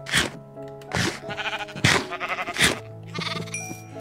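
Several sheep in a Minecraft pen give repeated blocky bleats, four or five distinct calls spaced evenly and close up, with a faint thunk near the end.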